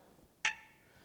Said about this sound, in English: here is a nail that's being plucked